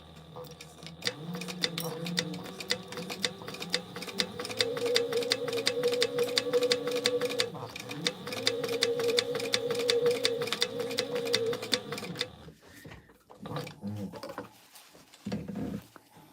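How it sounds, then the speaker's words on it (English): A sewing machine stitches along a line on a gingerbread house gift holder, then briefly back stitches, giving a close, rapid rhythmic clatter for about twelve seconds before stopping, with light handling noises afterward. "I'm going to stitch on the top of that line. Okay. And I am going to back stitch again just twice."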